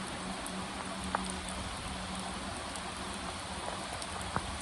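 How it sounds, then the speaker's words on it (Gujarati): Steady rain falls as a continuous broadband hiss while someone waits for it to ease before riding a motorbike, with a couple of faint drip-like clicks and no talk. "એટલો બધો વરસાદ પડતો છે"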